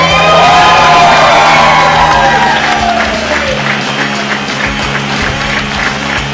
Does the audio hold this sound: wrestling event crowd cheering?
yes